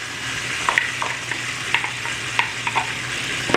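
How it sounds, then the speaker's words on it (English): Sliced onions with curry leaves and green chilies sizzle in a pan of oil for vermicelli upma, a steady close frying hiss broken by a few light stirring scrapes and clicks, with no voices. "we will fry the onions for about 3 to 4 minutes till they turn soft and translucent"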